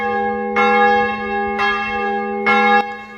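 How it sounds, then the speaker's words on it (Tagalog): A church bell rings at six o'clock from a church near a home: three loud, resonant strikes about a second apart, each leaving a long humming ring, with no voices. "Saktong alas 6 biglang tumunog yung kampana mula sa simbahan na malapit sa amin"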